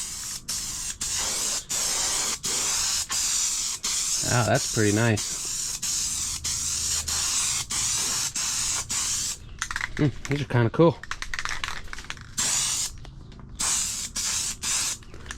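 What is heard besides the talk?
spray paint can spraying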